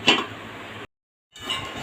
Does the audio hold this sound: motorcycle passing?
no